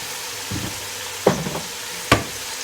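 Tomatoes and beef for palak gosht being stirred and fried in a pan, with a few distinct scraping stir strokes over a low sizzle, moderately close and without talk.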